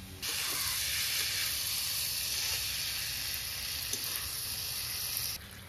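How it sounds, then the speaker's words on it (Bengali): Mixed vegetables with turmeric sizzle loudly in a hot pan on a stove, a steady bright hiss that begins abruptly and holds evenly for several seconds before cutting off. "সবকিছুর সাথে নেড়ে চেড়ে মিশিয়ে সবজিটা একদম ভাজা ভাজা করে নেবো"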